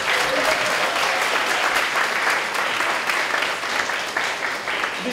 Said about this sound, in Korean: 이 시간을 통해 수고하고 있는 홀리스타 팀장 오세반 형제에게 박수 한번